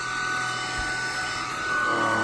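A Tineco vacuum cleaner runs steadily beneath a chair while sucking up dust, giving a close, constant whine and hum with a slight shift in pitch toward the end and no talking.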